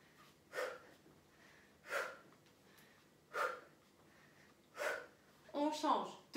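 Rhythmic breathing during a cardio workout: four evenly spaced, close, audible breaths about every 1.4 seconds, followed by a rougher, strained exhale, with no talking.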